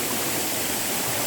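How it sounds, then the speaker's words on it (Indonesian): The Ringin Jenggot waterfall in Karanganyar pours in a steady, dense, broadband roar heard from close by, loud and unbroken, with no voices over it. "kita mari mendekat ke air terjunnya"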